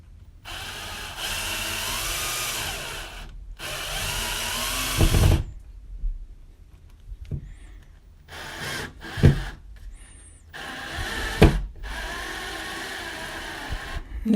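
A power drill drives screws into a wall to mount a floating shelf, with several long, loud whirring bursts up close, separated by pauses and shorter spurts.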